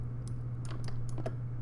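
A computer keyboard and mouse are clicked in a few quick, faint, separate taps over a steady low electrical hum.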